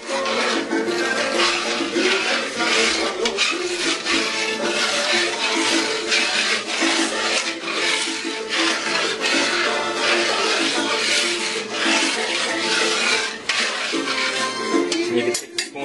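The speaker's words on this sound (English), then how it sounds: "Stir that up." A spoon stirs rice in a pot while cooking arroz con gandules, giving a steady, continuous scraping and clinking of metal against the pot that runs for the whole stretch at close range.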